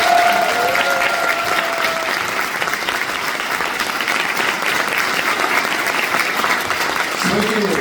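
A crowd at a National Assembly seminar applauding, loud sustained clapping filling the room throughout, with a brief voice audible at the start.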